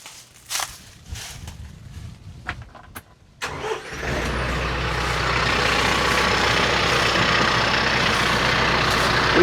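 A 50-year-old crane truck, its battery completely dead, cranks with a few uneven starter bursts and then catches, settling into a loud, steady engine run that continues to the end.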